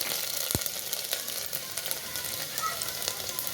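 Garlic drops into hot oil with a piece of ginger for paneer sabji, frying in a steady, close crackle with a brief knock of a utensil near the start and soft popping throughout.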